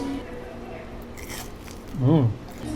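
Bite into a very thin, crunchy New York pizza crust with vodka sauce, a short close crunch heard once near the end amid faint restaurant background.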